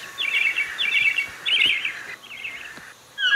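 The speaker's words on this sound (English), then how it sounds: "Thrush." Bird song in short repeated phrases, clear and fairly close, with several bright melodic bursts separated by brief gaps, fitting a thrush singing alone without any talk.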